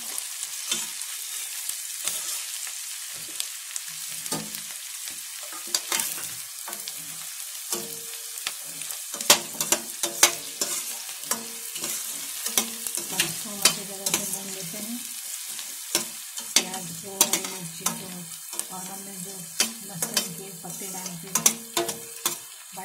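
Mustard greens being stirred and fried in a pan, with a steady soft sizzle and frequent scraping and clinking of a spoon against the pan, fairly quiet and close.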